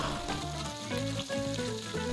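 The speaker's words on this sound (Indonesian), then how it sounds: "panaskan minyak dan masukkan ikan tongkol yang udah kita belah jadi 4 tadi. Kemudian kita goreng." Tuna pieces, cut into quarters and dusted with a little wheat flour, fry in hot oil with a constant loud sizzle and crackle, close up and uninterrupted.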